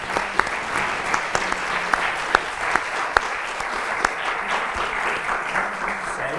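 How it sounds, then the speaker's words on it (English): A lecture audience gives a sustained round of applause after a talk on bacterial cell-to-cell communication: dense, even clapping fills the room throughout, with a few sharper individual claps standing out near the front. "I would like everyone to give a round of applause for Bonnie and Daniel and Marty."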